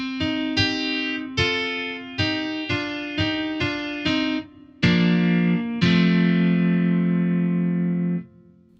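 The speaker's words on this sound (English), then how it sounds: "Let's listen to the piano through the Twin Amp." Arturia CP-70 V electric piano played through a Fender Twin amp model, a series of bright, distinct struck notes and chords, the last few held longer and ringing out before cutting off, loud and alone.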